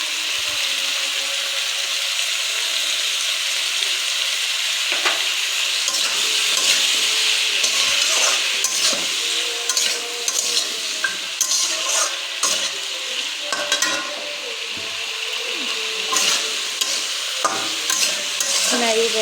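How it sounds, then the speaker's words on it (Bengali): Vegetables with turmeric frying in a wok, loud steady sizzle with repeated clattering stirs of a spatula against the pan, close and without speech. "নাড়িয়ে বেঁধে নিচ্ছি।"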